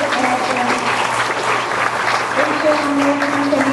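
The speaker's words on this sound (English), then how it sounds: "they deserve a lot of rounds of applause" An audience applauding student orchestra musicians at a school board meeting, a steady dense wash of clapping held at even loudness, with faint voices underneath.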